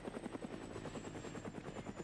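A helicopter in the video game Brick Rigs whirs steadily with a fast rhythmic rotor chop, a thin high whine running above it, constant and close.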